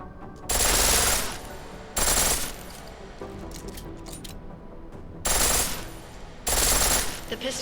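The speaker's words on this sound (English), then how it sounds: "The pistol in full auto will take down targets fast, but it'll burn through your ammo." Pistol fired on full auto in a video game: four loud, dense bursts of rapid fire, each about a second or less, separated by quieter stretches with faint background clatter.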